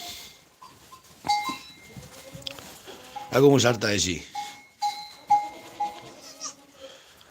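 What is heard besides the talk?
goats bleating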